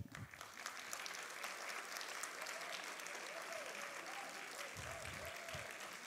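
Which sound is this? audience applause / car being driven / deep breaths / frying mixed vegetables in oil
audience applause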